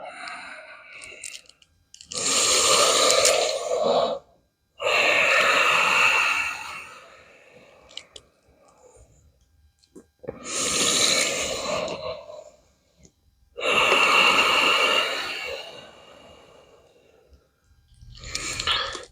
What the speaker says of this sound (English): Nice focused breathing here